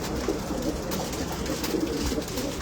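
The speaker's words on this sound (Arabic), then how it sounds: "هذا الحمام الروعه." Pigeons cooing close by, soft repeated throaty coos layered over a constant background murmur of birds, with no talking.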